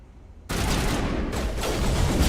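Sustained gunfire in the Mass Effect video game erupts abruptly after a brief quiet lead-in, a dense, loud fusillade of rapid shots that continues steadily to the end.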